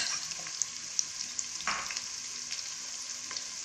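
Carrots go into a frying pan with onions for a coconut pulao and are stirred, bringing a low, steady sizzle with a soft scraping burst midway and light clicks of the spoon.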